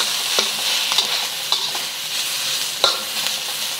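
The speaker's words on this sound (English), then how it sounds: "Stir fry this for about 1 minute." Onions and red pepper stir-fry in oil for noodles, a bright continuous sizzle with a few distinct spatula clanks and scrapes against the pan, close up with no voices.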